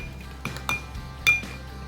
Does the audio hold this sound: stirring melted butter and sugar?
yes